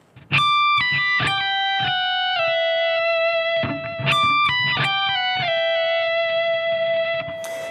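A distorted electric guitar plays a solo lick: a few quick hammered notes, then a slide down into a long sustained note, and the phrase repeats once.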